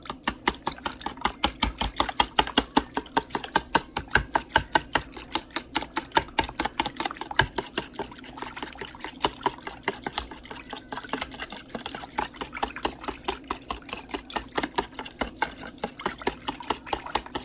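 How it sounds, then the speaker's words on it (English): Red velvet pancake batter with milk, egg and vanilla extract whisked in a bowl, making a steady, rapid run of light clicking strokes that continues evenly throughout, close up. "So now what I'm going to do is whisk that all together."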